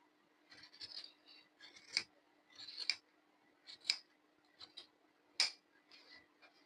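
Scissors snip through shirt fabric while a long shirt is cut out, a sparse run of sharp close crunching cuts spaced about a second apart in a quiet room.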